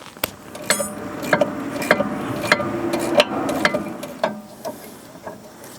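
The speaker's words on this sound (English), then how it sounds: "I like to unbolt the brake hose right here. It's a 12mm." A ratchet wrench loosening the 12mm brake hose bolt on a 2013-2017 Honda Accord's rear caliper clicks in quick, uneven ratcheting bursts close by, with metallic ticks and a few creaks.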